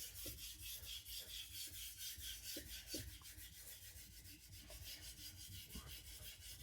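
A knife blade is stroked across a diamond sharpening plate in a quiet series of soft, rhythmic rasping scrapes, faint and close, with small clicks between passes.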